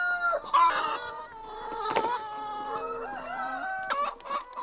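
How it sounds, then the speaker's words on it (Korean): Hens and roosters in a farm coop on Jirisan mountain cluck and squawk close by, with a rooster crowing in the middle and bursts of agitated calls throughout. "암탉과 수탉에 짝짓기로 나오는 달걀."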